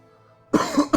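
A person coughs twice in a short, loud fit after a quiet stretch, the second cough sharper and following closely.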